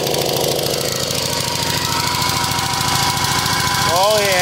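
An old John Deere sidewalk edger's small engine runs close by with a fast, rough, knocking putter, rising slightly as the PTO engages the blade near the end.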